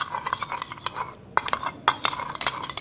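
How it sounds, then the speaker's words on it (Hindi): Quick clinking and scraping of a utensil stirring a hair mask mixture with lemon juice in a bowl, rapid irregular taps close by with brief pauses, no talk. "अब हम इसको अच्छी तरह से मिक्स कर लेंगे इस तरह से"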